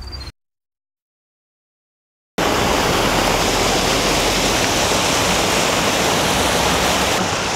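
A hot spring stream rushes in a steady, loud, broadband flow close to the microphone after a brief silent gap at the start, continuing unbroken to the end.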